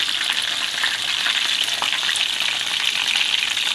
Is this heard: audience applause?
no